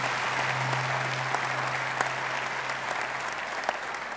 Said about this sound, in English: would you just applaud these people?